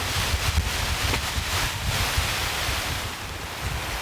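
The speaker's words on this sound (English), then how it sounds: "It's too much wind." Strong wind gusting across a rainy island campsite in the middle of the ocean, a steady loud roar with a heavy low rumble buffeting the microphone and no one talking.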